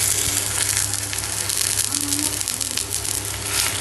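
Kodo millet adai flipped on a hot pan, giving a steady, loud, close sizzle of frying batter that stays broad and continuous throughout, with no talk.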